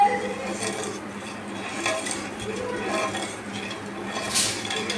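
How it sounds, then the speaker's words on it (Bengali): Mango dessert mixture being stirred in a pot, with a continuous soft scraping of the spoon and occasional light clinks against the pot, close and moderately quiet. "এটাকে আপনাদের নাড়িয়ে যেতে হবে একটু।"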